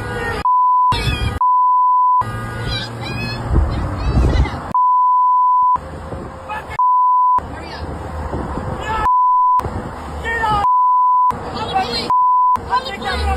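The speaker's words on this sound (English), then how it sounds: "We're going to beep it in the post, right?" Repeated censor beeps, a steady pure tone inserted in about eight separate bursts over lively casino-show conversation, each beep blanking out the talk for a moment before voices resume.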